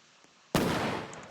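Fireworks burst in a Roblox video game: one sudden loud explosion cracks out of near silence and then rumbles and crackles, fading slowly over the next second.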